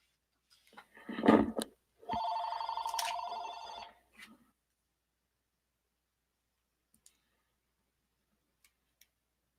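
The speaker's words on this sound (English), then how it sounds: "Phone went off." A phone goes off indoors with a brief electronic ring burst followed by a longer steady ringtone, loud and close, then silence with only a few faint ticks.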